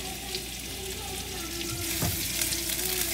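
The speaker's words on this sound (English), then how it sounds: "saute the onion till it turns translucent and soft" Chopped onion sautéing in a pan for Hyderabadi chicken dalca, a soft steady sizzle under a low hum, with one brief stir clank partway through.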